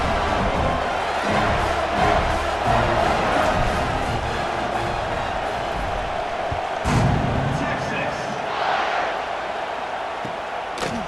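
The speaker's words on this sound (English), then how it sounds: "this crowd is buzzing after that last score" Stadium crowd buzzing steadily in the EA Sports College Football 26 video game, a broad continuous roar with swells of cheering, heard beneath a play-by-play commentator's voice.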